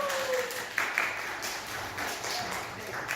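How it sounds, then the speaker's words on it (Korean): A church congregation applauds in a steady wash of clapping, with a voice talking over it. "송영문 집사님 박수 한번 쳐드립시다"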